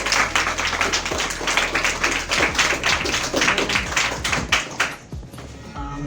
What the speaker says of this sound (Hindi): जोरदार तालियां शिव सर के लिए